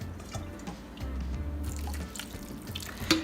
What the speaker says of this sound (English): I mix it and add a little water and boil.